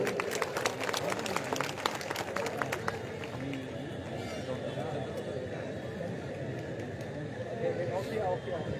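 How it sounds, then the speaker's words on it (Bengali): A crowd at an outdoor gathering in a vegetable market claps in a brief, lively burst of scattered applause near the start, while someone talks over it and background chatter continues. "সবাই একটু করতালি দিয়ে সম্বর্ধনা দেবেন"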